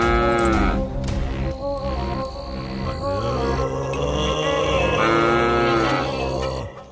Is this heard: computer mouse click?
no